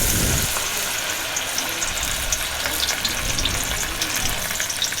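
Fish pieces fry in oil in a kadhai for a Lahori fish fry, a steady, dense sizzle close by that runs unbroken and fairly loud throughout, with no talking.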